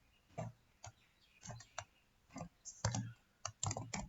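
Code being typed on a computer keyboard, quiet irregular clicks and key taps in short clusters, close by with no talking.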